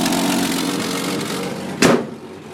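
A 1966 Ford Mustang's engine idles steadily after a cold start, a loud, rough, continuous rumble heard up close, with a brief sharp bump or thud partway through.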